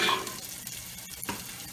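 Steaks sear in a frying pan with a continuous close sizzle and crackle, a few light pops and clicks rising over the steady frying hiss.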